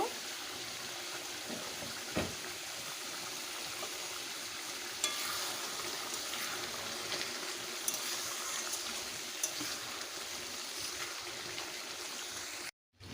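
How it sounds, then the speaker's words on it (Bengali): Mutton frying in a pot for mutton kosha gives off a continuous soft sizzle, with occasional scrapes and clinks from stirring, before ending in abrupt silence. "এবারে মটনগুলোকে ভালোভাবে কষে নিয়েছি"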